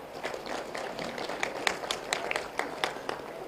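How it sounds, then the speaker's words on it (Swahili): An audience at an agribusiness and blue economy investment conference in Taita Taveta breaks into applause: scattered, moderately distant hand claps, sparse at first and then fuller, steady for a few seconds in a large hall. "Tuwapigie makofi."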